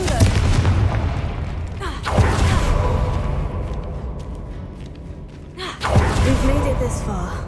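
Confringo fire-blast spell in Hogwarts Legacy bursts in booming explosions, a heavy blast at the start followed by two more impacts with rumbling tails, close and loud amid game sound, with a gasping voice at moments.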